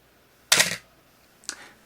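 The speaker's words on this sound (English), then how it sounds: "let's set that by pulling this lever forward and pressing the shutter button." A Canon AE-1 35mm film SLR with a 50mm f/1.8 lens releases its shutter on the self-timer: a sharp mechanical clack up close, then a softer second click a second later.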